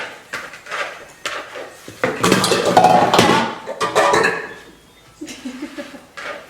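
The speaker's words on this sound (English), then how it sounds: "I flipped over the pan" A baking pan holding kamut-flour bread dough is flipped over, producing close metallic clatter, knocks and scraping in a few bursts separated by short pauses, with no one speaking.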